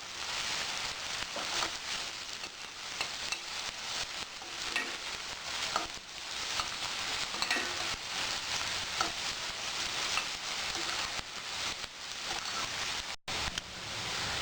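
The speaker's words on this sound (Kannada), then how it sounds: "ಈರುಳ್ಳಿ ಚೆನ್ನಾಗಿ ಫ್ರೈ ಆಗಬೇಕು," Onions fry in a pan for a pepper rice dish, giving a loud, steady, dense sizzle that runs without a break, close up and with no talking.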